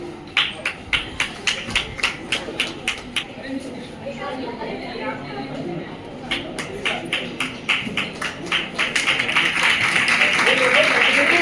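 An audience claps in steady rhythmic unison, pauses, claps in time again, then swells into dense, continuous applause, with a voice talking over parts of it.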